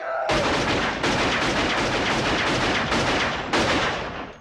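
Gunshots in a crime film scene where two hitmen shoot their victims: a rapid series of loud, sharp blasts in close succession, each ringing out with almost no gap.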